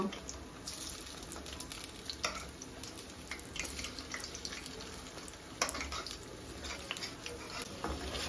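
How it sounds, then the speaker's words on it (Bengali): Rohu fish pakoras fry in hot oil with a soft, continuous sizzle. Scattered crackles and pops run through it, along with faint watery stirring noises, all fairly quiet and close. "আমার কিন্তু মাছের এই পকোড়াগুলো লাল লাল করে ভাজা হয়ে গেছে"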